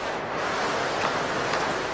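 Sea waves at night wash steadily onto a shore as a continuous broadband roar without pauses, with a faint gusty wind quality and no other sounds.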